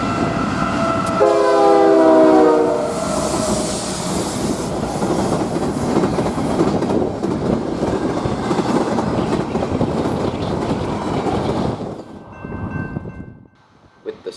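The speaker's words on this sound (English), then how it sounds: "Our next train was BNSF 5875, an S train heading right past us." BNSF 5875, an S train on the Southern Transcon, roars past at about 50 mph, its horn sounding early over a loud rumble and clatter of wagons that cuts off abruptly near the end.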